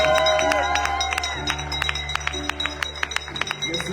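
Wedding guests at a nuptial blessing ceremony applaud and cheer the bride's family, with scattered sharp claps rising over a sustained crowd murmur and background tones.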